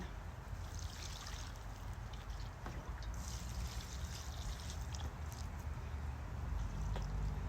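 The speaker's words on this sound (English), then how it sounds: "I'm just gonna give them a good drink of water before they go in" Water poured from a can onto potted mums and hydrangeas, a faint, continuous trickling and splashing that runs the whole time.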